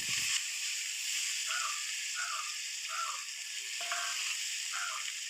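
Urad dal and mustard seeds sizzle in hot oil with a steady, even frying hiss that stays close and continuous throughout, and a few faint chirping tones sound in the background.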